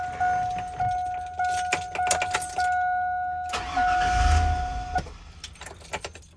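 A camper van engine cranks and catches briefly, then stalls and dies. Indoor beeps and clicks accompany it, and no one talks.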